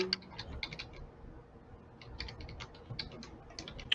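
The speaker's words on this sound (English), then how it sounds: "We can hear you typing, Andre." Rapid, irregular keystrokes on a computer keyboard during live courtroom coverage, clattering steadily in close bursts over a low background hum, with no talking.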